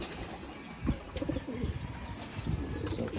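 Pigeons in a breeding loft coo and feed nearby, soft overlapping calls with a few short thumps and light rustling throughout.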